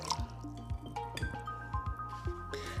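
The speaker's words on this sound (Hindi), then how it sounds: "तो हम थोड़ा सा और पानी डालेंगे इसके अंदर" Water being added to paratha batter in a bowl, with a run of close, irregular drips and wet plops, some with a faint ringing tone, spaced about half a second apart.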